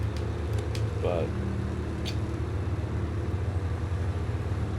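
A heavy M939 military truck engine in the video game SnowRunner drones steadily with a low rumbling idle throughout, close and constant, with a brief spoken word and a couple of clicks.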